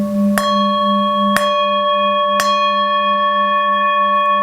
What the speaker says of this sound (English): So let's try actually a wooden wand at the base.